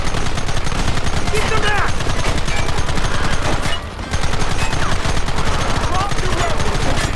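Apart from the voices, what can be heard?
gunfire in the video game Red Dead Redemption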